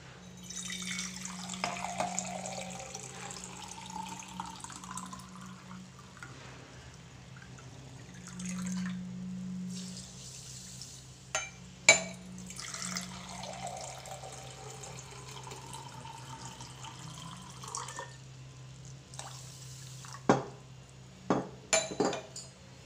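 Water poured from a glass onto sugar to make syrup for gulab jamun, a steady close trickle and splash with a few sharp clinks of glass against the pot near the end, no talking.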